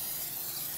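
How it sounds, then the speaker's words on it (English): Cooking spray misted onto meatloaf pans in a kitchen, a short, soft, continuous hiss heard alone. "Okay, I'm going to spray these pans."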